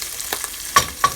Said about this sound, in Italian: arrivate a questo punto che state incominciando anche a friggere